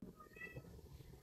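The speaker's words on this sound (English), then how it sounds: "That's my cat" A pet cat gives a single short, faint meow indoors, heard briefly in a quiet room.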